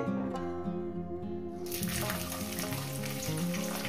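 Garlic sizzles in oil in a pan beside mustard greens and fried dried red chilli, a steady loud frying hiss that swells suddenly midway as the cloves hit the hot oil, with light stirring clinks throughout.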